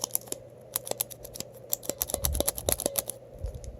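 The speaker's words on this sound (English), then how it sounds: "when you press it down, it makes a clicking sound" Cherry MX Blue mechanical keyboard switches on a keypad, pressed in an irregular run of sharp, close clicks that quicken and cluster toward the end, with no talking.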